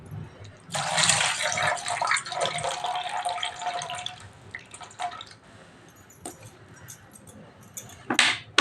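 Soaked moong dal lentils are rinsed in water: a loud rush of running water for several seconds, then softer sloshing and a few drips, ending with a brief splash.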